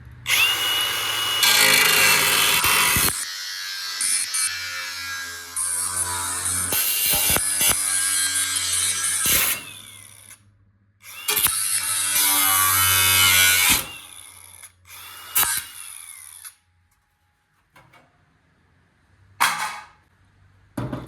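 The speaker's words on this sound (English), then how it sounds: "I think I'm just gonna cut this thing straight across here." A power tool cuts straight across the metal cowl panel of a 1983 Chevy G20 van in loud, whining bursts that stop and restart, separated by short silent pauses.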